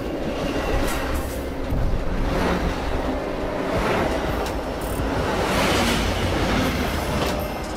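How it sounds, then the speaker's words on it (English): A double-decker passenger train rumbles past on the rails, a steady loud roar of wheels and carriages with faint clickety-clack and occasional squeal, swelling and easing over several seconds. "Double-decker train."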